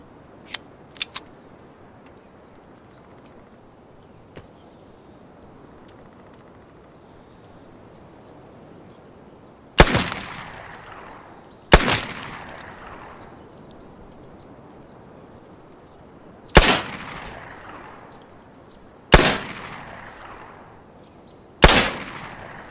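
Gunfire from the video game Vigor: a few faint early pops, then five loud, sharp single shots spaced a couple of seconds apart, each with a short ringing decay, close and without talk.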